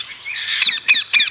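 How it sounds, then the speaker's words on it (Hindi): A parrot gives three loud, harsh squawks in quick succession, close and clear against a quiet background, with no talking. "तुमने तोते की आवाज सुनी?"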